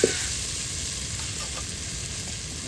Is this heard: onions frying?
yes